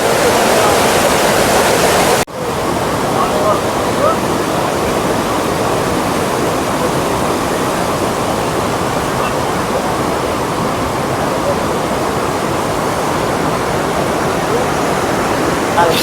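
Steady, loud roar of water overflowing the Shetrunji dam near Bhavnagar in Saurashtra, a broad continuous rushing wash filling the whole clip without a pause.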